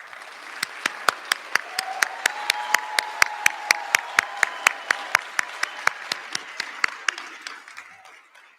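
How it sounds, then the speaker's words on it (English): Sparse, evenly paced clapping from a small group at a physical therapy white coat ceremony keeps a steady rhythm, tapering off at the end, with a faint voice or tone underneath. "Let's give these therapy students a round of applause."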